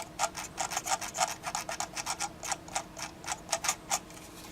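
Fine ratcheting ticks from the scroll wheel of a Microsoft Wireless Mobile 1850 mouse, rolled in quick bursts of soft rhythmic clicks, close and quiet with no other sound.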